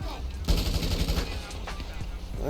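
Sustained automatic gunfire in GTA 5 Online, a dense continuous rattle of shots under a steady engine-like drone, with faint talk behind it.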